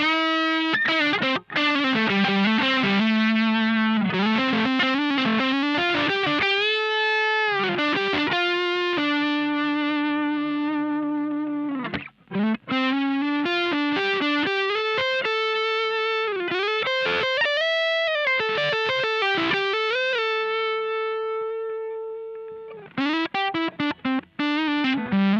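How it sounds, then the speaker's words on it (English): Electric guitar lead lines played on the neck pickup through a Menatone The King overdrive pedal, loud and sustained distorted notes with bends and held tones, close and continuous with short pauses, no talking. "Next up, we'll try some lead stuff on this setting. I love my neck pickup"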